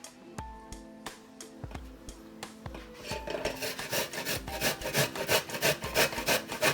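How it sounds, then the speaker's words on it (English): Fresh ginger grated against a grater for Jamaican peanut drops, starting as sparse scraping strokes and building into a dense, steady rasping rhythm of quick repeated rubs, close and fairly loud. "So let's grate our ginger."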